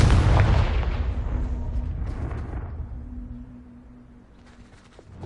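A Confringo blasting spell in a Harry Potter video game sets off a heavy, close explosion whose rumbling roar decays over several seconds into a quieter tail, with no voices over it.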